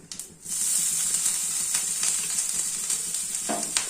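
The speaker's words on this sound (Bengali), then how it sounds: "একটু ভাজা ভাজা হয়ে গেলে পরে একটু ছিটে আসছে আঁচটা একটু কমিয়ে নেবে" Chopped ginger sizzles and spatters in hot oil in a pan while masala paneer is being made. The frying hiss is steady and close, with scattered crackles and pops.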